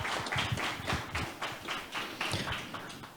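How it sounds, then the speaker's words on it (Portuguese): An audience applauds at a public advocacy lecture event, giving a dense, steady round of clapping that holds at an even, moderately loud level for a few seconds. "Uma salva de palmas"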